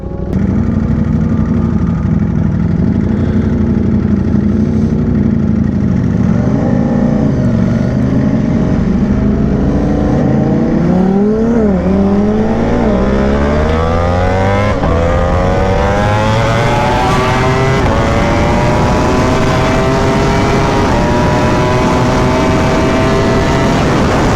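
An 1100 hp Lamborghini supercar engine roars loud and close for a long stretch, with repeated revs and gear changes whose pitch climbs steadily toward the end, and no talking.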